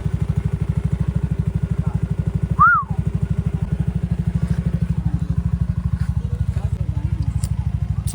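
A motorcycle engine idles close by as it warms up, a fast, even, low putter that runs without a break, with a short squeaky sound partway through.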